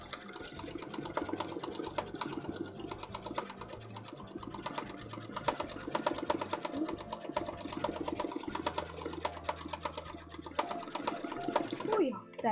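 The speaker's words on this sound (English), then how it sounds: "Sewing machines as a whole have not changed ridiculously" A sewing machine runs in a fast, steady mechanical chatter for most of the stretch, with a low hum beneath and a brief stop near the end, while a voice talks over it.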